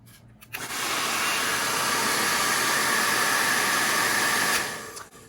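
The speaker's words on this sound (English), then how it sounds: "We'll put the hair dryer on just cold. You can blow just cold air" A hair dryer set to cold blows a steady, close rushing whoosh of air for several seconds, switching on and off at either end without any talk.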